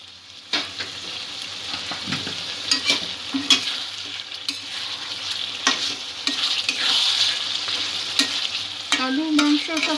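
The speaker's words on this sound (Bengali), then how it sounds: "আলু মাংস সব কিছুর মধ্যে যাতে মশলাটা যায়, সেই জন্য আলু দিয়ে কষে নেব আরও কিছুক্ষণ।" Chicken kalia with potatoes sizzles in spice masala in a pan, steady frying hiss broken by repeated scraping and clacking of a spatula as it is stirred close by.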